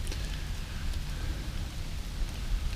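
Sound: rain falling during a bike ride

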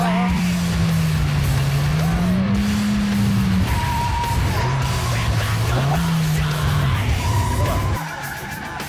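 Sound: car cornering hard with tires squealing

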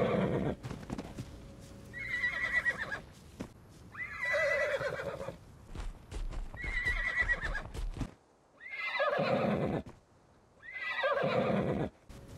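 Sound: horse neighing while being tamed in survival video game

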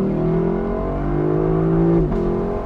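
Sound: V8 engine revving

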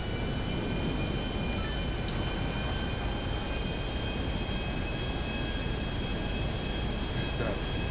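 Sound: aircraft taking off in video game GTA V

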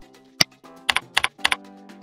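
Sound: typing on a computer keyboard to enter boiler details

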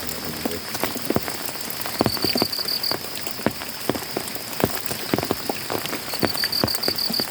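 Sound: rain falling

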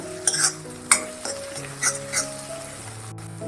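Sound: sautéing green chilli thecha with turmeric in oil

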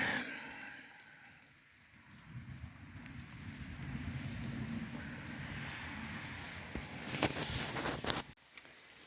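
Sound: rain falling outdoors

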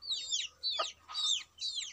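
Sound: chickens clucking

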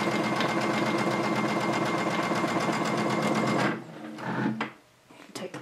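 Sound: sewing machine stitching binding on a placemat

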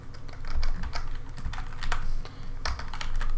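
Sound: typing on a computer keyboard

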